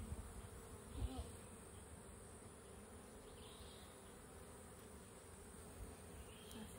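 Honey bees buzz during a hive inspection, a faint, steady insect drone lingering in the background with an occasional light knock and no speech.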